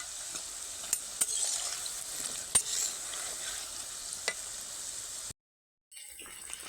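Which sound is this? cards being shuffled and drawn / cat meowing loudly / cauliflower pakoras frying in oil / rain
cauliflower pakoras frying in oil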